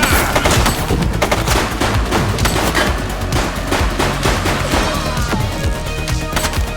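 Rapid, sustained video game gunfire from a police precinct game, dense overlapping shots and bursts filling the whole stretch at close, loud level with no pauses.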